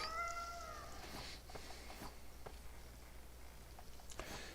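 A cat meows in a video game, one short high mewing cry at the start. It is faint and heard over a quiet, steady background with a few soft clicks.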